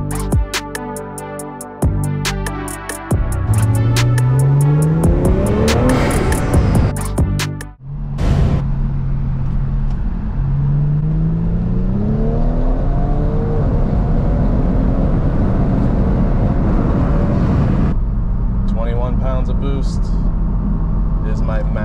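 Kia Stinger GT with a JB4 tune driving, engine note rising and falling through several gear pulls with rising whine, loud and close inside the cabin, continuous throughout.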